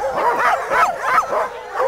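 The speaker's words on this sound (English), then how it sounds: "These dogs are raring to go" Sled dogs waiting to pull passengers bark and yip eagerly in quick, close repeated bursts, with excited whimpering between the barks.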